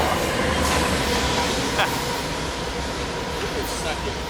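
A CP locomotive hauling a freight train rolls past at Fullerton with a loud, steady rumble and faint rhythmic wheel clatter, while voices talk excitedly nearby.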